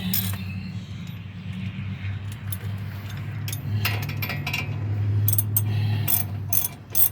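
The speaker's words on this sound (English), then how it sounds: "You want to take your ratchet and your socket." A ratchet and socket work brake bolts loose on a 2008 Dodge Ram 1500, the pawl clicking in quick continuous runs over a low steady hum, close and fairly loud, with no talking.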